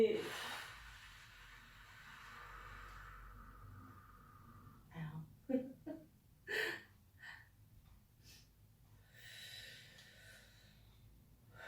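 A patient breathes during an NFC chip implant procedure, giving a few sharp, close snorts and exhalations between quieter stretches, with faint talk.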